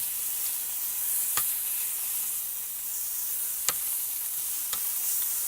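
Flank steak searing on a Weber Q1200 gas grill, a steady close sizzle and hiss with a few sharp ticks and crackles, and no talking.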